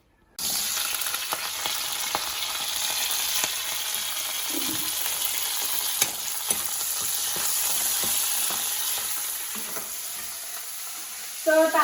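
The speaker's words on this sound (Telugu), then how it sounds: "సో తాలింపు అయితే వేసేసారు కదా" Tempering sputters and sizzles in hot oil for Kadapa-style dal cooked in a clay pot, a steady close, dense frying crackle with occasional stirring clinks, running nearly throughout with no voices.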